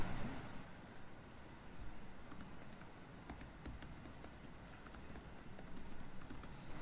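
Quiet, rapid clicking of keys on a computer keyboard, a steady stream of light taps with a few brief pauses, close and faint over low background hiss.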